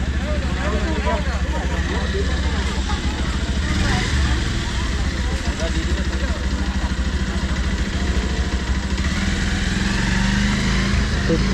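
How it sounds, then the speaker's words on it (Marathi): A motorbike engine drones steadily and loudly as the bike climbs a slope on a large island, holding a constant mid-pitched tone throughout, with faint voices mixed in. "इथं या टप्प्यावर पण कशी चालते बाईक"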